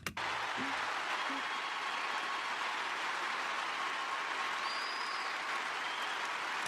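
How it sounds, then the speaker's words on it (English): A large crowd at a memorial claps and cheers in a dense, sustained wall of applause that holds at a steady loud level from start to finish. "they're all clapping and cheering"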